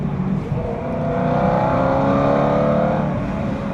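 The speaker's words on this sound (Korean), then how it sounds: "진짜 배기 기가 막히게 나왔네." BMW E92 M3 V8 with aftermarket exhaust revving and pulling hard from inside the car, a loud, rising engine note sustained throughout.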